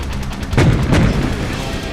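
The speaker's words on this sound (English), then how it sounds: "You'll often hear how gunfire sound effects are combined with cannon fire" Gunfire sound effects layered with cannon fire make a run of sharp, loud booming reports, two heavy blasts standing out above rapid crackling shots.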